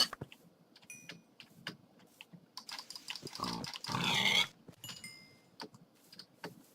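Pigs grunting and squealing in a video game, a cluster of snorts swelling around the middle of the clip amid keyboard clicks and small game effects, with no speech.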